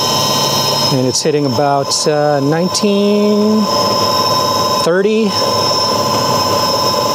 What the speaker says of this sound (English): if you want to hit the throttle, you'll see that the motor is spinning